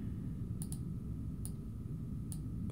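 Mouse clicks while trimming a clip in Canvas Studio, a handful of sharp separate taps spaced irregularly over a steady low background hum, with no talking.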